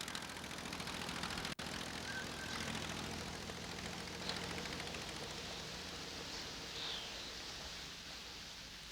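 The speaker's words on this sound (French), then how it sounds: "Le moteur Anzani, qui anime son avion, tourne parfaitement et Blériot en oublie sa douleur à la jambe." Early propeller monoplane with an Anzani engine in flight, a steady, distant-sounding drone blended with broad rushing noise, with one sharp click near the start.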